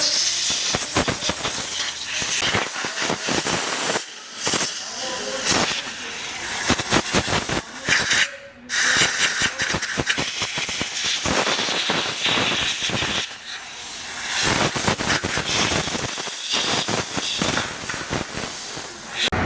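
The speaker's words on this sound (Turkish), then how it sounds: "Son olarak hava tutuyoruz. Temizlediğimiz yerleri kurutuyoruz." Compressed air blowing to dry cleaned intake parts of a Fiat Linea 1.3 Multijet: a loud, close, steady hiss in long bursts with brief pauses between them.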